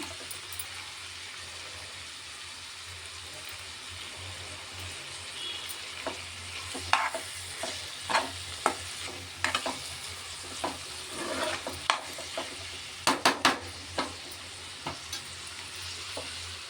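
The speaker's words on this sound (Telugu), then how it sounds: "ఇందులోనే రెండు కలిపి వేగుతాయండి" Dried fish frying with tomatoes, chilli powder, salt, turmeric and a splash of water in a pan, with a steady close sizzle and scattered stirring scrapes and clicks growing busier toward the end.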